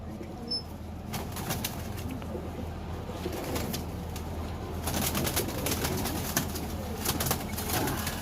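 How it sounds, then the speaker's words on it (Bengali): Pigeons at a loft housing more than two hundred birds, with soft cooing and bursts of wing flapping over a steady background hum, close by and fairly quiet, no talking. "এই নর কবুতর আর মাদি তো দেখাইলাম এখানে"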